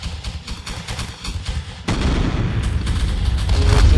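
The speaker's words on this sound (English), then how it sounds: "I don't think Lamer has realized that his cannons are getting absolutely lit up by these" Cannon fire in a strategy video game battle: a dense barrage of booming shots and rolling blasts, loud and continuous, growing heavier and fuller halfway through.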